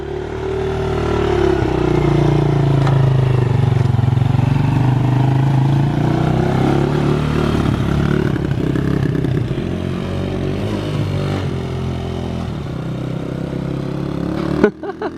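A cheap project motorcycle, just fitted with a float, starts up and runs loud and close. The engine keeps a steady rough rumble for about fifteen seconds and ends with a sharp knock.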